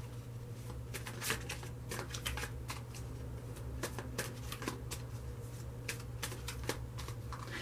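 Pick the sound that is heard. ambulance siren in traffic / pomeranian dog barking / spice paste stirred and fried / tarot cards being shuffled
tarot cards being shuffled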